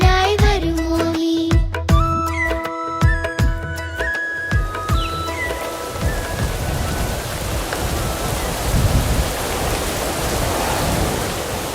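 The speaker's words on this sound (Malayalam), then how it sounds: "മഴ തിമിർത്ത് പെയ്യുകയാണ്" Heavy rain pouring in a dense, loud, continuous wash, with musical tones fading out at the start as the downpour takes over.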